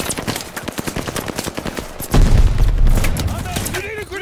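Machine gun fire in a war video game, a rapid loud burst of shots close up, giving way to a heavy booming rumble and someone shouting over the noise.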